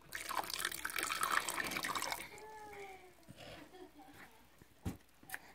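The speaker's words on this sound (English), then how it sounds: "you're going to get a 1/3 a cup of water, and you're going to pour it in with your glue" Water poured from a cup into glue in a container for homemade slime, a broadband liquid rush for about two seconds that then thins to faint trickles and a few drips, with quiet voices underneath.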